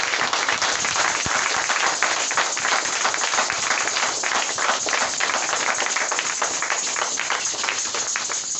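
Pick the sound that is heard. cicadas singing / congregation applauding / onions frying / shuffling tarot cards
congregation applauding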